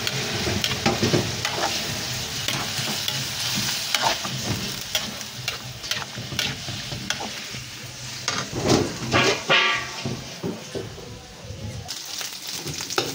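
Garlic and ginger sautéing in oil for pork dinuguan, a steady close sizzle with repeated scraping stirs of a spatula against the pan, fairly loud, with some talk mixed in.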